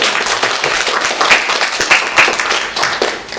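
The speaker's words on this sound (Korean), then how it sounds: "다 같이 박수로 축하하겠습니다." A church congregation at a Sunday service claps together to celebrate members' birthdays, a fairly close, lively round of applause with a few sharper individual claps standing out.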